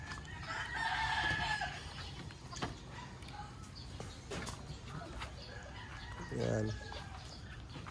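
A white pet chicken clucks and then crows outdoors, the crow loud and drawn out, with other fowl and background noise around and a voice speaking briefly.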